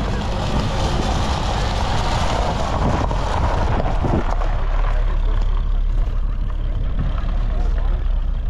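A 2-litre cam-in-head car engine idles steadily with a low, continuous rumble, loud and close throughout, with no voices.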